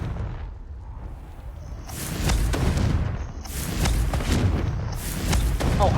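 Confringo, the fire spell from Hogwarts Legacy, lands in three loud, booming explosive blasts about a second apart, each followed by a crackling, rumbling tail, with no talking.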